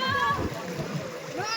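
Children play in the Pala river in Kalimpong, splashing water and shallow stream flow mixed with their excited voices and nearby chatter, a busy outdoor scene heard up close.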